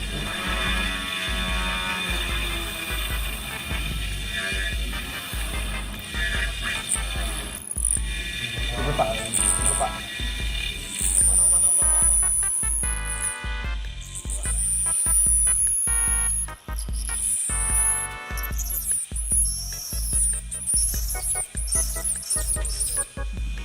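A prototype miniature drilling machine works into a 50 mm wooden plank, giving loud close mechanical clicking and whirring that turns into rapid regular ticks with rising and falling high whines.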